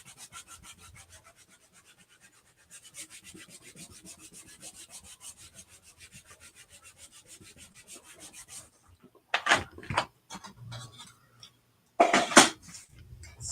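A silk screen burnished onto a spiral notebook, heard as a soft, steady run of close rubbing strokes, then several louder, sharper scraping bursts toward the end.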